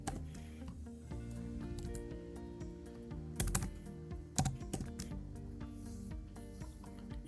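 Numbers tapped out on a computer keyboard, a quick uneven patter of close, crisp key clicks with a few louder strikes midway, over faint background music.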